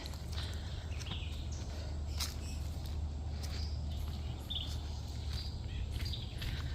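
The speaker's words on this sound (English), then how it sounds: "can you hear the birds singing?" Birds sing faintly outdoors at a colonial historic site, with scattered short chirps and whistles over a steady low wind-like rumble.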